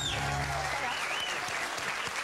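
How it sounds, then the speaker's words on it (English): An audience applauds steadily and loudly on a studio show after a guest is introduced. Dense, continuous clapping fills the whole stretch, with a brief voice heard at the start. "a big round of applause for Alex Alexander"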